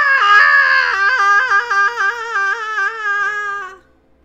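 A single performed angry scream from a woman, loud and sustained for nearly four seconds, wavering in pitch before cutting off, alone with no other sound.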